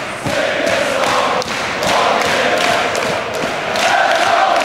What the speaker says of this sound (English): just enjoy this crowd